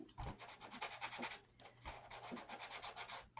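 Sandpaper rubs back and forth across a playing card to dull its shiny surface, a rapid series of close, quiet rasping strokes in two bursts with a short pause between.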